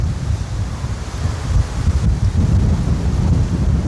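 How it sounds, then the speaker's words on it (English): Strong wind buffeting a muffled microphone outdoors on flat basalt plains near a maar volcanic lake, a continuous loud low roar with gusty swells throughout. "I'm not even sure if you can hear me because it's very windy."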